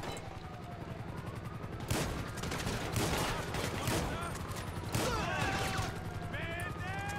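Gunfire in Grand Theft Auto 5 during a prison break-in: bursts of shots crackle over a steady rumble, with heavier volleys around the second and fifth seconds, and voices can be heard in the background.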